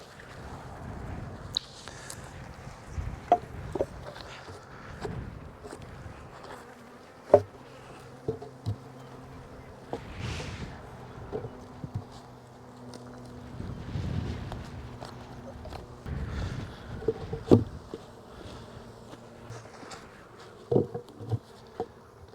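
Honeybees buzzing around an open hive during an inspection with pollen patties, a steady droning hum with individual bees passing close and fading, plus occasional soft knocks and handling noises.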